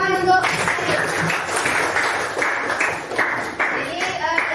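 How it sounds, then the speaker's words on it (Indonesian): A classroom full of students applauds together at the close of a lesson, a steady wash of clapping that carries through the whole stretch with a few louder bursts along the way. "Tepuk tangan untuk"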